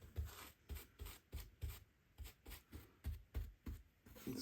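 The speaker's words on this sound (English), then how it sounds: "Now just a whole lot of sweeping." A small brush sweeps loose ballast beside a model railway platform in quick, quiet, rhythmic strokes, about a dozen close scratchy swishes in succession, with no talking.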